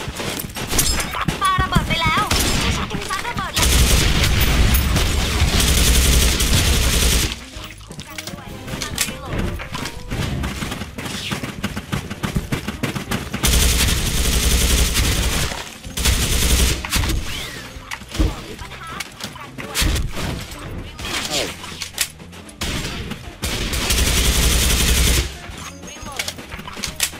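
Gunfire from a FAMAS BlackClip rifle and grenade explosions in the video game Special Force 2, with loud repeated bursts broken by quieter gaps and voices talking in between.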